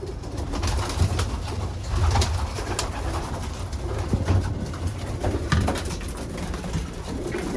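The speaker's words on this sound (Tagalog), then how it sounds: "Ito po yung mga kalapati ni Mr. Nakamura." Pigeons cooing steadily in a close group inside a loft, low murmuring calls overlapping continuously with some rustling and wing movement.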